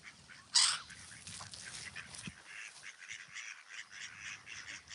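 A mother duck and her ducklings chatter softly, with one sharp call near the start and steady faint peeping throughout.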